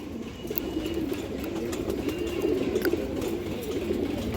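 A large female pigeon coos in repeated low, throaty rolls close by, over a soft background of other birds and faint chirps.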